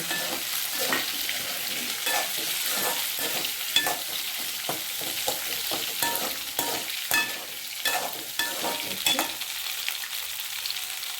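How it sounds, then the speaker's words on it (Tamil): Onions and radish sizzle in a hot pan while a utensil stirs and scrapes them, with steady frying crackle throughout. "வெங்காயம் வதங்கிட்டு இந்த வதக்கின முள்ளையும் சேர்த்து அதில் திருப்பி போட்டு ஒரு வதக்க"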